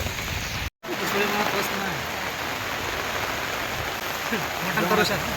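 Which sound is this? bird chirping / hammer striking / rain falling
rain falling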